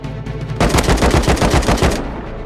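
Rapid automatic bursts of AK rifle fire ring out in the survival video game Rust, a loud, close string of evenly spaced shots lasting over a second, followed by a fading tail.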